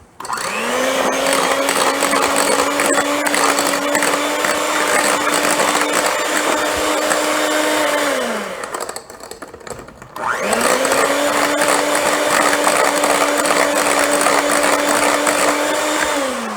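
An electric hand mixer whirs loudly through pumpkin bread batter, a steady high motor drone that cuts out for a couple of seconds midway, then starts up again and keeps running to the end.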